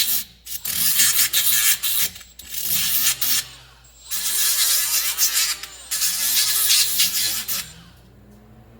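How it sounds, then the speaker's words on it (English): Brake caliper mounting pads on the front hub of a 2016 Dodge Grand Caravan being scrubbed clean. Loud, close rasping strokes come in several long bursts with short pauses between, and no talking. "Might as well clean the pads where the brake caliper bolts onto."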